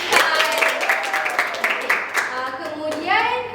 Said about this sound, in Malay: Betul, berikan tepukan.